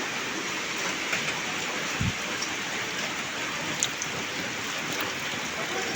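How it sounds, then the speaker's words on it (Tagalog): Rain falls steadily, a continuous broadband hiss of drops on surfaces with one soft thump partway through and faint voices in the background. "Ulan, oh."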